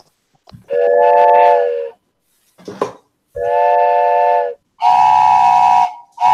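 A loud, close whistle sounds in three long, steady blasts of about a second each, separated by short pauses, with brief sharp bursts in between and no talking.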